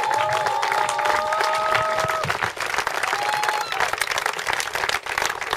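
An outdoor crowd at a street demonstration in Bad Aibling applauds the speaker Nicole Britz, with sustained dense clapping, scattered whoops and a faint whistle or tone early on.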